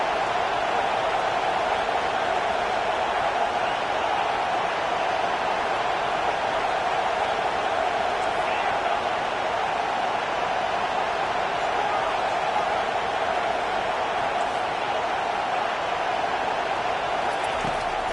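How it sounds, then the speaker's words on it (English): Stadium crowd in an American football video game roars behind the defense on a third down, a loud, steady wall of cheering noise that holds without a break for the whole stretch. "Decibels rising as the crowd gets behind this defense on 3rd down."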